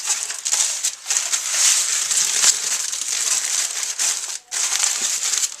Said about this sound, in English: Make a little foil pack of my pasties.